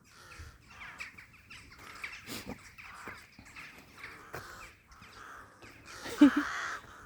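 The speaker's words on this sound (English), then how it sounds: "I think they're ravens. Or crows." Several crows cawing repeatedly from a flock, harsh calls overlapping at moderate distance, with a louder, closer burst of cawing near the end.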